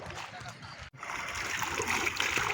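Flooded Mahanadi river water rushing past, a steady broadband churning and splashing close by, with a brief drop near the start; a voice talks over it.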